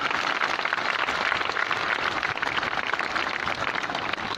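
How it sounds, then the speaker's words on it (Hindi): A crowd claps loudly and continuously at the Ganga Aarti at Parmarth Niketan in Rishikesh, a dense steady wash of applause with no talking. "इसमें आप सभी मेरे साथ जोर से ताली बजाएंगे"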